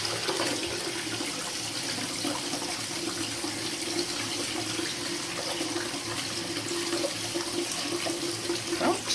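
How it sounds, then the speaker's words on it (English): Hot water runs steadily from a bath tap into a filling tub, a continuous broadband rush with a faint low gurgle, close and unbroken throughout with no talking. "Jack this hot water up a little bit."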